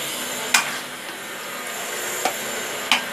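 Meat pieces fry in ghee with garlic and ginger for a yakhni pulao, giving a steady soft sizzling hiss with a few brief crackles and pops, fairly quiet and with no talking.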